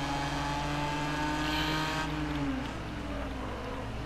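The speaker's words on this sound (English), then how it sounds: "Alright, track racing the Porsche!" The Porsche race car engine in the rally game Gravel, heard as a steady, loud, close buzzing drone whose pitch holds high and then drops slightly as the engine eases off, with no talk over it.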